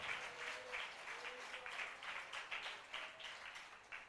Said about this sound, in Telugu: చప్పట్లు కొట్టి ప్రభుని కనపరచాలి.